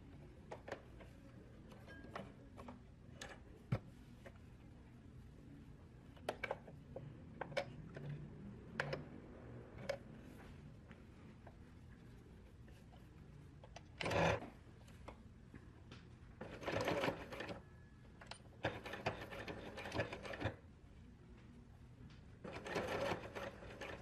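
A sewing machine stitches a set-in sleeve seam on a garment, running in short and longer bursts with a fast mechanical ticking rhythm, fairly close and clear, separated by quiet pauses and small handling clicks.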